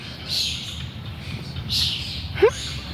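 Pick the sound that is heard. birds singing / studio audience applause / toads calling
birds singing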